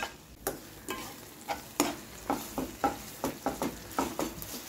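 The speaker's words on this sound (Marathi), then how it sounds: "टोमॅटो टाकून फिरवून घ्या।" Tomatoes fry in a pan and get stirred with a spoon, giving a rhythmic run of sharp scraping clicks over a quiet sizzle, close up with no talking.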